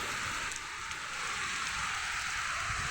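Heavy rain pours steadily at night in a village near Gopalapuram, a dense even hiss of downpour with no distinct thunder and no voices.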